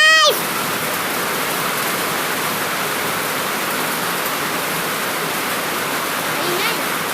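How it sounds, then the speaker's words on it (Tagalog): Steady rain pours down during a tropical storm, a dense even hiss of falling water that holds at a constant level throughout after a brief voice at the very start. "Maulan guys!"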